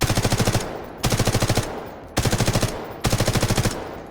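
Four bursts of rapid automatic gunfire from a weapon in the shooter game Delta Force, fired while the character holds breath, each burst about half a second of loud, evenly spaced shots separated by short pauses.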